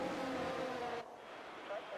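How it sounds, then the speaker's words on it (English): Race car engine idling in anti-stall on the grid of a racing video game at Austria, a steady droning tone with a faint harmonic whine that cuts off and drops to a quieter hum partway through. "I love the sound of like your car when it goes into anti-stall."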